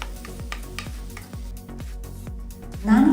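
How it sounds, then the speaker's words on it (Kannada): Masala spiced with chilli powder fries in a kadai for a mushroom dish, with a steady run of metal spoon clinks and scrapes against the pan and a louder sizzle swelling at the end. "ಮಸಾಲೆಯ ಹಸಿ ವಾಸನೆ ಹೋಗೋವರೆಗೂ ಚೆನ್ನಾಗಿ ಫ್ರೈ ಮಾಡ್ಕೊಳ್ಳಿ"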